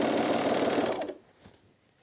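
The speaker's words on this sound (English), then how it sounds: "This is very satisfying to serge off." A serger sewing machine trimming off threads on a button-down shirt, a fast, loud mechanical whir of stitching that runs for about a second then cuts off, followed by a faint click.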